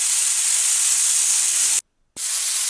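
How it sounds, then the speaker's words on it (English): Compressed air at 40 psi blows from twin small jets onto a Lego bladeless disc turbine, making a steady loud hiss that cuts out abruptly for a moment and then resumes. "Okay, let's run some tests at 40 psi."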